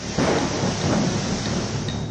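Rain falls in South Bengal with a low rumble of thunder, a dense steady hiss of drops under a deep rolling swell that stays even across a brief moment, with no voices.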